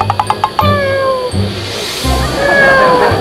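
Cartoon cat meows loudly and close several times, drawn-out wailing calls with a few short sharp taps at the start and no talk over them.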